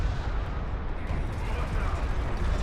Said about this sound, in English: He's going to start eating Knef missile fire as well.